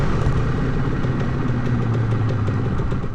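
A Yamaha motorcycle engine idles steadily after a carburetor cleaning, a continuous low rumble with a smooth, even tone that holds at a constant level throughout.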